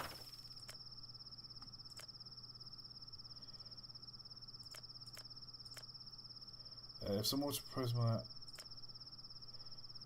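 A video-game cricket keeps up a steady, faint high pulsing trill through a quiet night scene on a train, while someone briefly speaks over it toward the end.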